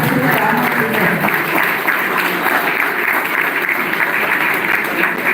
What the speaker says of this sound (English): Big round of applause to Professor Ramurthy sir.